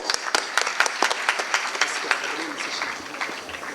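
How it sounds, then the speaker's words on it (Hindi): An audience at a Jain Kshamavani forgiveness gathering applauds to welcome a speaker, steady crowd clapping with distinct nearby claps that tapers off toward the end. "तालियों से स्वागत करें."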